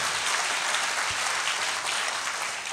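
Dense, even applause from an audience at a Malayalam church sermon gathering, continuous clapping held at a constant level from start to finish.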